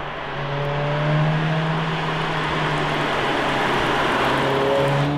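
Volkswagen Golf R with a 300-horsepower engine and four-wheel drive, a loud, steady, deep engine drone held at roughly constant revs throughout.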